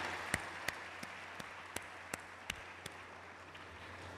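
Sparse, quiet handclaps ring out at a slow, regular pace at a cultural program, a few isolated claps rather than a full crowd, over low background noise.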